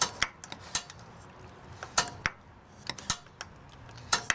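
Several sharp, dry clicks from a Thermador gas range burner knob at irregular intervals, close by and fairly quiet, with a faint metallic ring, no igniter sound and no voices.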